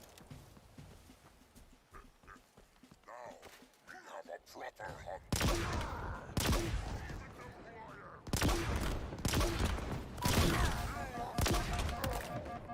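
Gunfire from a weapon in the Halo Infinite video game rings out in loud, repeated bursts through the second half, after quieter clatter and game sounds at the start.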